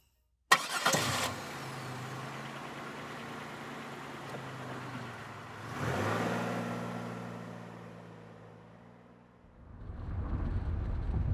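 A car engine cranks with a sharp start, settles into a steady idle, then revs up briefly before fading, a clear close-up sound effect with no voices.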